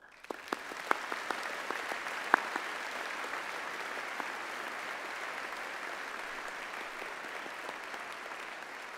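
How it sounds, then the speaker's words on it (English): A graduation ceremony audience applauds in a large hall, a few separate sharp claps at first swelling into a broad, even wash of clapping that stays steady and fairly distant. "join me in thanking them with a huge round of applause"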